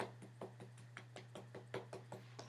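A makeup brush loaded with blush powder is tapped repeatedly to knock off the excess, giving about a dozen light, evenly spaced knocks over a steady low hum, close and fairly quiet.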